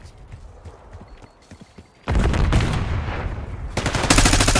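Gunfire in the video game Call of Duty: Black Ops 6 multiplayer: quiet scattered shots at first, then a sudden loud burst of dense, sustained automatic fire that keeps building to the end.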